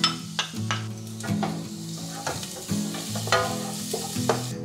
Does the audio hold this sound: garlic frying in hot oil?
yes